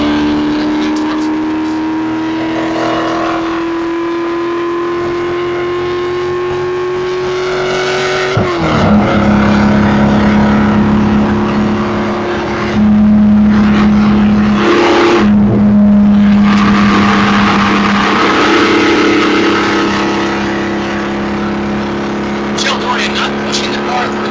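Corvette ZR-1 race car on a drag strip, a loud engine roar rising in pitch through the gears over a long pass, with a commentator talking over it throughout.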